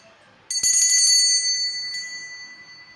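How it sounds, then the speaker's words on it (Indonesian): A bright metallic bell rings out once, its clear tone shimmering and slowly fading away in an otherwise quiet space. "ditandai lonceng berbunyi"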